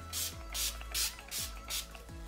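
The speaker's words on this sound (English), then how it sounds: "I'm going to have a little spray with my Urban Decay All Nighter Setting Spray" Five short hissing bursts of makeup setting spray in a steady rhythm, each about a quarter second long, close and clear, with faint mechanical clicks between them.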